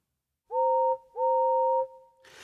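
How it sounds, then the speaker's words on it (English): A train engine whistle sounds twice as a sound effect in a children's story read-along: two clear, loud, steady tones, the second longer, followed by a short hiss. "Suddenly, Edward heard a whistle."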